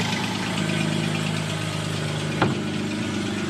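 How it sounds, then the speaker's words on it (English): Steady idle of a 3.8 engine with an exhaust manifold leak, a low, even rumble and a faint rhythmic ticking, plus one brief click partway through, with no voices. "Exhaust manifold leak, common junk."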